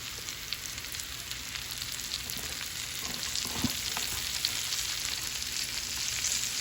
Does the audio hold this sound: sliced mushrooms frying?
yes